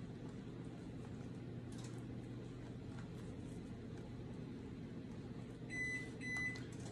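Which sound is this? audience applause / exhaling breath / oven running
oven running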